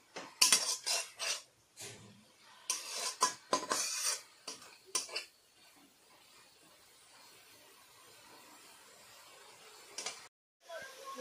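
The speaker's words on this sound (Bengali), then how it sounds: "এইভাবে ক্রমাগত নাড়াচাড়া করতে হবে" Grated coconut filling for pitha stirred in a pan, with bursts of metal spatula scraping and clinking against the pan for the first few seconds, then a quieter stretch with a faint soft sizzle and a couple of late scrapes.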